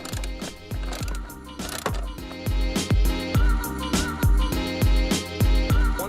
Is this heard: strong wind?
no